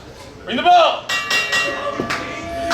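A wrestling ring bell rings out at the start of a women's wrestling match at the Berwyn Eagles Club, giving several sharp metallic clangs in quick succession amid voices and crowd noise.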